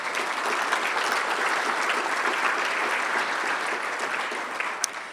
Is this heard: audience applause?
yes